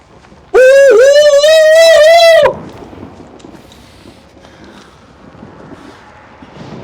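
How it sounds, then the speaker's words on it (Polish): Owl hooting in the horror video game Outlast: a single loud, sustained tonal call with wavering pitch lasting about two seconds, followed by a faint, low ambient rumble. "co to za sowa takie dźwięki wydaje?"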